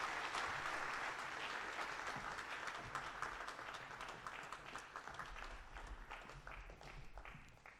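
A summit plenary audience gives a standing ovation, broad sustained applause from many hands that stays loud and then gradually thins and softens toward the end.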